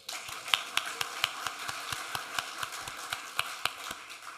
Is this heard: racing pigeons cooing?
no